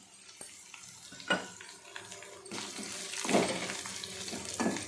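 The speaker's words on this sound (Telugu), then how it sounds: "ఇప్పుడు మనం జీలకర్ర ఎండుమిర్చి వేసేసుకున్నాం" Cumin seeds and dried red chillies sizzle in hot oil, a steady close hiss broken by scattered crackles and a few louder clattering bursts, with no talking.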